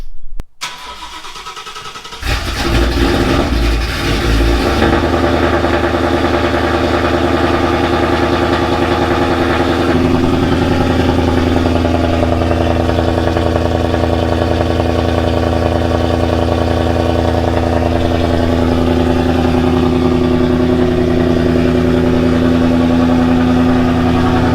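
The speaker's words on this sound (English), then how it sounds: "we'll try to fire it up here and do a cold start" A turbocharged Fox-body Ford Mustang engine cranks and catches on a cold start, roars loudly at high revs, then settles into a steady, rumbling fast idle that drones on close by.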